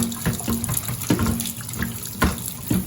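Tap water runs steadily into a sink while oxtail is rinsed, a continuous close splashing stream with small bursts of spatter.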